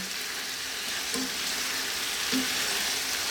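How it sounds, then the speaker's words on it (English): Cooked pasta simmers in a bacon, mushroom and tomato sauce in a hot pan, giving an even, close sizzling hiss with a couple of soft spoon knocks underneath. "we're going to cook our pasta in the sauce just for a couple more minutes"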